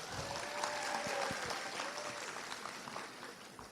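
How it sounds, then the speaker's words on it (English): Round of applause from an audience at an accounting festival kickoff as a moderator is welcomed to the stage, steady clapping with a faint murmur of voices fading slightly toward the end. "give a big round of applause to our moderator, Miss Juni Barokah"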